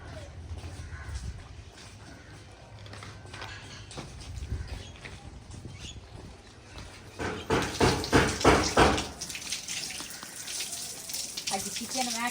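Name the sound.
washing kitchen utensils under running tap water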